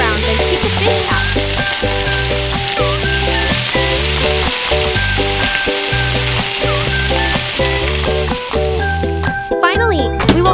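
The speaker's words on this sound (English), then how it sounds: "Drop the fish into the pan. Fry both sides until golden brown" Fish fries in a pan of oil in a miniature kitchen setting, a loud continuous crackling sizzle under a rhythmic background music track.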